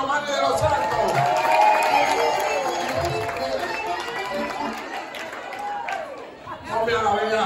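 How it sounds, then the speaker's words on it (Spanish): Applause for Mani de los Santos rises from the audience at a Dominican Heritage Month celebration breakfast, a dense steady wash of clapping mixed with crowd chatter and cheers, swelling and dipping before picking up again. "Un aplauso a Mani de los Santos."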